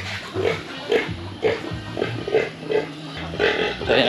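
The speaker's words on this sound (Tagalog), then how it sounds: "So ayan naman yung ibang mga baboy natin." Farm pigs grunting close by, a run of short rhythmic snorting grunts repeating about every half second, fairly loud and steady with no talk over them.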